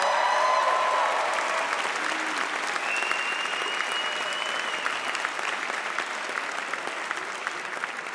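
Sustained applause from a concert audience at a live show in Union Chapel, London, a dense steady wash of clapping at fairly even loudness throughout, with a few faint tonal traces above it.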